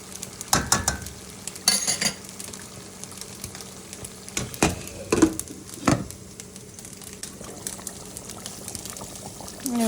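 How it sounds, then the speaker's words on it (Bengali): Goat meat being stirred in a cooking pan for a cabbage and goat curry: repeated sharp scrapes and clacks of a spoon against the pan over a steady bubbling sizzle, with no talk. "এই তো আমার মিটটা হয়ে গেছে, আবার একটু নাড়াচাড়া দিয়ে ডেকে রেখে দেবো"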